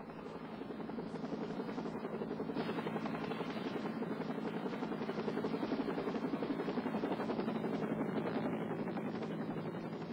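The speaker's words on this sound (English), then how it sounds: "The Life Flight helicopter arrived from Portland in less than 15 minutes." A medical rescue helicopter drones steadily and loudly throughout, its rotor chopping in a constant rapid pulse with no other sounds.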